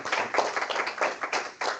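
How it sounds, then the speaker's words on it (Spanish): A brief burst of clapping for panelists, with a handful of distinct close claps in an uneven rhythm, short and moderately loud. "Les pido un aplauso muy sentido para nuestros panelistas."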